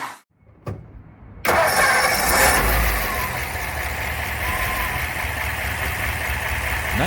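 A 1955 Ford Thunderbird with a three-speed gearbox cranks and fires up after a brief pause, then settles into a loud, steady idle close by.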